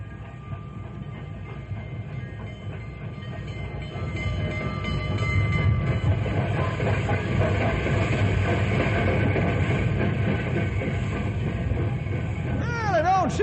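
The Fireball Express train approaches, its rumble and rolling wheel noise growing louder and closer midway, with squealing, wavering metallic tones near the end as it arrives.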